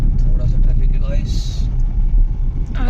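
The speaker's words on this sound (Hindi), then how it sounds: "थोड़ा सा ट्रैफिक है गाइस," Weekend road traffic on the route toward Dwarka, heard from inside a moving car: a steady low engine and road rumble, with a brief brighter hiss midway. People talk over it throughout.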